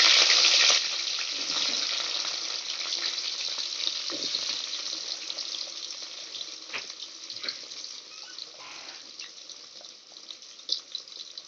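Capsicum frying in hot oil in a home kitchen for paneer curry, a steady broad hiss and sizzle that starts loud and settles into a continuous crackle with occasional pops, close up and without any talking.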